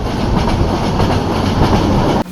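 A passenger train running from Cox's Bazar to Dhaka, heard from inside the carriage as a loud, continuous rumble with rhythmic clickety-clack of the wheels, steady until it cuts off at the end.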